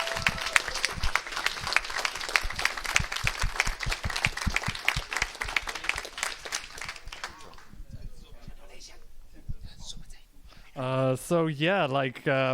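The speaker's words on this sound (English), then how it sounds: "Can we get a huge round of applause for the hotel and their phenomenal staff?" An audience breaks into loud, dense applause for several seconds, which fades out before a voice starts speaking near the end.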